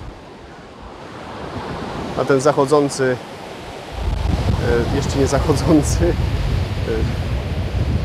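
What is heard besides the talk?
ocean waves breaking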